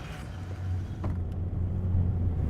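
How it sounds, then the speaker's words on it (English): A car drives along a road outside Karachi, Pakistan, heard from inside as a steady low engine and road rumble with a brief rattle, no talk. "We've been driving for about an hour outside of Karachi"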